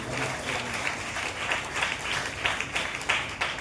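Applause from a congregation at a Telugu Christian worship service, a steady wash of many hands clapping that holds for several seconds at moderate distance, with no speech over it.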